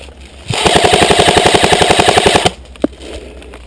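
Airsoft gun firing a rapid automatic burst of about two seconds, sharp and close, followed by a single distant crack during an outdoor game.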